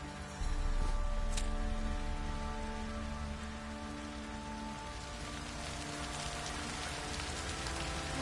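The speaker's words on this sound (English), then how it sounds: "Oh, it's drizzling." Drizzling rain in The Witcher 3 video game, a steady soft patter of droplets with a low ambient hum underneath, fairly quiet and continuous, with no voices.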